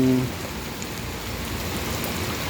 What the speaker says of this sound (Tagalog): nakakatakot na ito kung magdamag pa itong ulan na ito